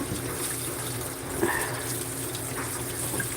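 Tap water runs steadily while a household fan is rinsed under it, a continuous hissing gush with no talking.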